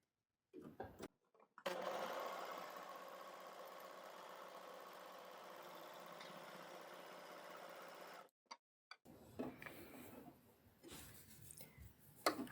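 An overlocker (serger) runs through fabric in one long steady burst, a close, even mechanical whirr with fast knife and stitch rattle, followed by a brief stop and quieter handling sounds.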